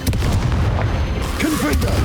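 Fiery spell blasts in the Hogwarts Legacy video game, heavy booming bursts rolling over a loud, dense game soundscape, with brief voiced sounds mixed in.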